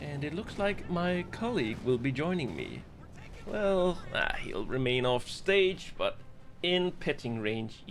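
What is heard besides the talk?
No distinct noise like a dog, phone or traffic.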